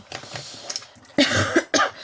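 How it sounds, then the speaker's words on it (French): Two or three sharp, raspy coughs close by, with quieter breathy sounds and rustling before them. "suis désolée, je tousse encore"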